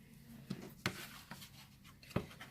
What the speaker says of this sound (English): I'm just going to cut it out